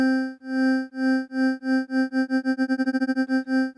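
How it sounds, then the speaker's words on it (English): A steady synth tone, a sine wave on a second oscillator under amplitude modulation, pulses louder and quieter, the wobble speeding up from slow swells to a rapid tremolo before easing back. "you can hear it's simply modulating how loud and quiet the second oscillator is"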